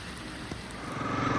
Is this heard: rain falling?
yes